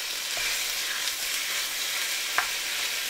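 Beef browning in olive oil in an enamel pot for tortilla soup, a loud steady sizzle and crackle up close, with a few scraping stirs, no voices.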